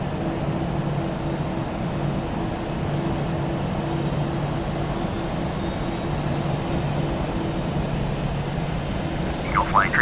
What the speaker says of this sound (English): Taxiing to San Lima, using taxiway, Papa Alpha, Delta 142.